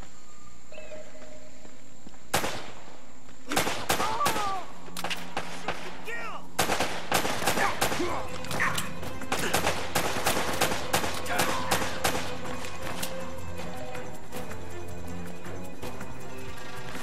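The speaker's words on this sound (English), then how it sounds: "Shooting at you too, you know." Sharp, loud gunshots and bursts of automatic fire in Uncharted: Drake's Fortune, first as scattered single cracks and then as a dense exchange that fades to quieter ambience near the end.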